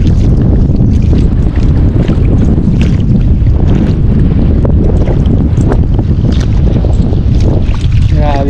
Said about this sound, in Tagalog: kahit nasa gilid sobrang lakas pa rin ng hangin